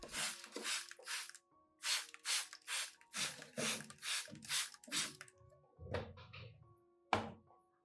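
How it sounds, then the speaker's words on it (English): A pump sprayer mists garlic solution onto orchid leaves in a run of short, crisp hissing bursts, fairly close, with soft tonal music underneath. "Spray both the top and underside of the leaves so the solution penetrates evenly"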